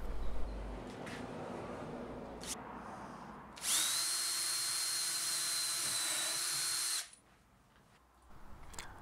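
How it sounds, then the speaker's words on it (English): A single close power drill burst, a countersink bit drilling a pilot hole in a workbench, whines steadily for a few seconds, then cuts off, with quiet handling noise before and after. "I can then drill some pilot holes, and I'm using a drill bit with a countersink built in."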